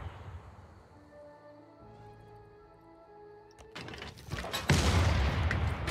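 Artillery unit firing in Civilization VI: a quiet tonal game hum gives way to a loud booming burst of gunfire and rumbling blasts that swell and sustain toward the end.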